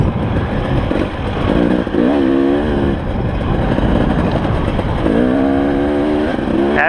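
2018 KTM 300 Six Days two-stroke dirt bike climbing a hill, its engine droning loud and close throughout, rising in revs at two points with no talk.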